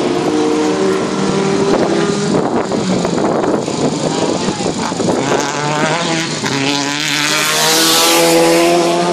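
Rallycross race cars at the Lovech 2013 final roar with loud, continuous engine noise, revs rising and falling through gear changes, wind buffeting the microphone and a commentator speaking over the racing throughout.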